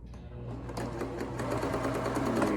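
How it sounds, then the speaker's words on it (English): A sewing machine runs a zigzag stitch down the long side of a fabric neck gaiter. A few slow needle strokes pick up into a steady, close, fast mechanical whir with rhythmic clicking. "So now we're going to go down the other long side, and mine is 19. We're going to just sew all the way down."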